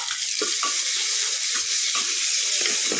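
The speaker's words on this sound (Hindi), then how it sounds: "मैंने इसमें अपनी प्याज डाल दी है।" Chopped onions fry in a pan on a low gas flame with a loud, continuous, close-up hissing sizzle and faint scattered spatters.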